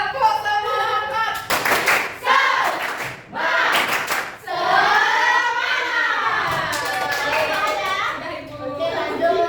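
Schoolchildren in a classroom clap out a rhythmic 'tepuk semangat' spirit cheer, bursts of sharp claps alternating with loud chanted children's voices, close and lively, ending in excited chatter.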